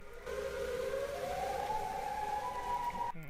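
A loud, steady video game siren wails throughout, its pitch rising slowly, before cutting off abruptly near the end.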